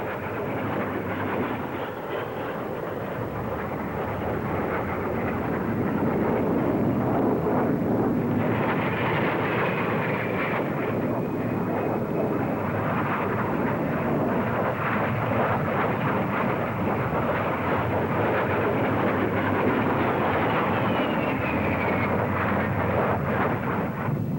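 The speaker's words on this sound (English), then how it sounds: "The Jet Provost, also in production for the RAF." A Jet Provost RAF jet trainer at the Farnborough air show gives a loud, continuous jet roar that swells after a few seconds and then holds steady, with no talking.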